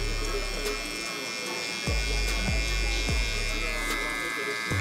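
An electric hair clipper buzzes steadily during a high taper cut in a barbershop, a close, constant hum with several soft low thumps layered over it, while someone speaks throughout.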